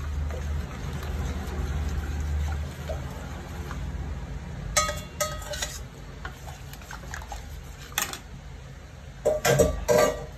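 Hot melted jaggery is stirred into ground rice batter for kalathappam, a low muffled swirling at first, then several clattering bursts of a spoon scraping a vessel, close up with no talk.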